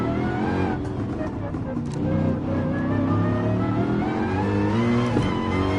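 A race car engine in the video game Gran Turismo Sport, a steady loud droning roar that climbs in pitch as it accelerates, heard under someone talking.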